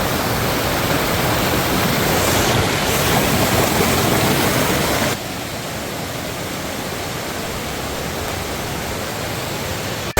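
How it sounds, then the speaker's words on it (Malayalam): A waterfall at Kalikavu in Kerala, beside a house, gives a loud, continuous broadband roar up close. The level drops slightly midway and then holds steady, with no voices. "അടിപൊളി ഒരു വെള്ളച്ചാട്ടം കേട്ടോ"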